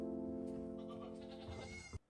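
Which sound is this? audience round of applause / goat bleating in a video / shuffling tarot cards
goat bleating in a video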